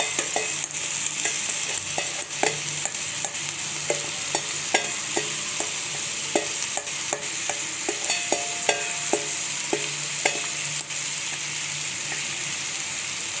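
Cooked rice being stirred into jaggery, grated coconut, cashews and almonds for narali bhat, with a steady soft sizzle under a long run of regular spoon scrapes and taps against the pan, close and without talk.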